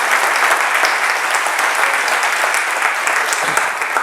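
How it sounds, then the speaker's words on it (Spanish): A conference audience gives a dense, loud round of applause that runs steadily from start to finish, with no talking over it. "quiero que deis otro fuerte aplauso a la asociación por toda la labor que están haciendo"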